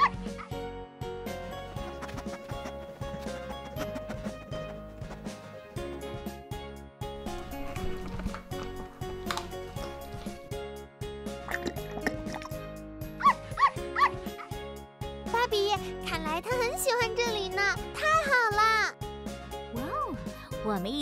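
A puppy yips and barks in a children's toy-play setting, with short high-pitched yelps rising near the end over continuous background music.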